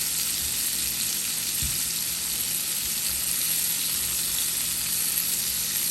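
Coated shrimp fry steadily in a hot pan as they are turned over, a constant close sizzle with one soft knock partway through, no talking.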